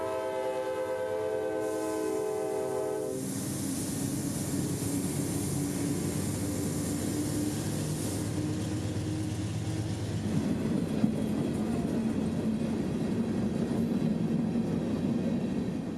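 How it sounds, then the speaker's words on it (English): Freight train L781 leaving Land O' Lakes northbound for Spring Hill and Brooksville at night in light drizzle: a long, loud horn blast opens, then the heavy rumble and screech of moving cars continues steadily. "L781 departs Lando Lakes for Spring Hill and ultimately Brooksville"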